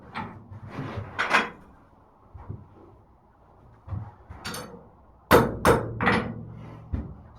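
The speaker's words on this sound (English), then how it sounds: "So ideally I'm hitting with just this back part of the hammer." Hammer blows on hot metal stock while forging box jaw tongs, a few sharp ringing strikes spaced irregularly with quieter gaps, the later ones louder and close.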